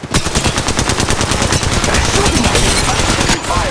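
Rapid automatic gunfire in the Apex Legends Mobile video game, a loud, close, sustained burst of evenly spaced shots lasting a few seconds.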